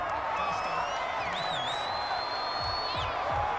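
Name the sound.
crowd noise in the stadium, Madden 21 video game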